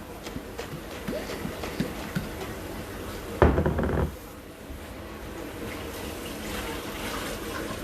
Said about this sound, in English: Now, drain all your water out and get this dry.